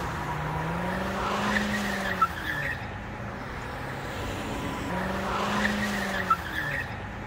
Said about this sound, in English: The car was definitely braking hard to try to get out of the spin.